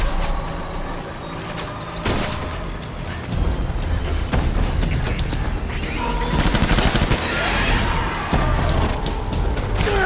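Heavy gunfire from the video game Death Stranding, with dense overlapping shots and bursts of fire running throughout, loud and close, mixed with mechanical clanks and blasts.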